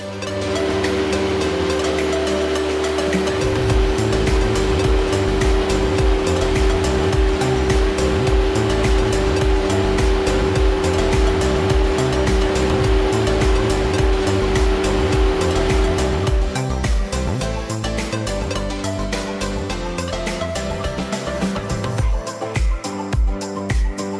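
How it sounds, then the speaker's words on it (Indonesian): A local speedboat crosses the sea off Pulau Galang, Batam, its engine droning loud and steady with a constant hum that shifts pitch partway through, over rushing water and no speech. "menuju sekolah dengan mengarungi lautan menggunakan speedboat warga setempat"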